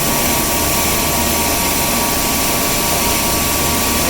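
Industrial blower machine in a styrofoam factory, drawing material from a silo toward a mixer, gives a loud, steady broadband roar with a constant hum running throughout, no talking.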